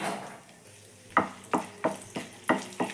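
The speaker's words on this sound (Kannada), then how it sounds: "ಸ್ವಲ್ಪ ಲೈಟಾಗಿ ಫ್ರೈ ಮಾಡ್ಕೊಳ್ಳೋಣ" Cloves, cinnamon and green chilies frying lightly in a spoonful of hot oil in a pan, a soft sizzle punctuated by six sharp, regular scraping strokes of a spoon stirring against the pan.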